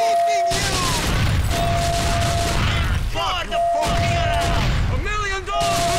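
Gunfire in the GTA video game The Ballad of Gay Tony, scattered bursts of shots under almost constant talk and game noise, with a steady background tone throughout.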